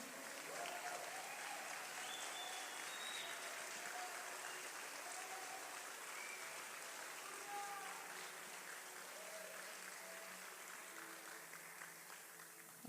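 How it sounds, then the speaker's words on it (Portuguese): A church congregation applauds for Jesus at a worship gathering, a steady sustained clapping that holds evenly throughout, with faint musical tones and murmurs underneath. "Dê uma salva de palmas a Jesus."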